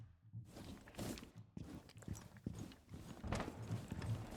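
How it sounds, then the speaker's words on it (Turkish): Footsteps in a video game, a steady run of soft thudding steps, faint and continuous over low background noise, with no talking. "Ayak sesleri var."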